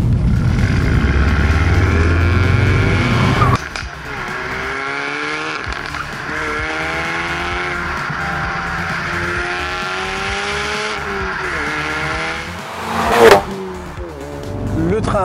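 A car in sport driving mode corners hard with torque sent to the outer rear wheel. The engine drones loudly throughout as revs rise and fall, with a brief sharp tire squeal near the end.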